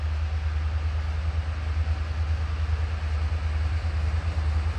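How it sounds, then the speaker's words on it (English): A heavy freight train approaches beneath an old bridge nearly a century old, heard as a deep, steady rumble that holds without a break, with no voices. "Okay, I hear the train coming."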